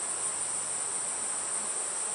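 Honey bees buzz steadily around an open brood frame pulled from a hive, a dense, even insect drone held close throughout with no talking.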